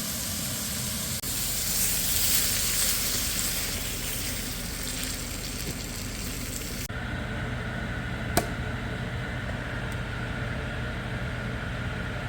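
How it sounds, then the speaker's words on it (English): Steak bites sauté in a hot pan with a steady, even sizzle that softens slightly partway through, and a single faint click lands near the end. "We're going to saute up these steak bites for a few minutes"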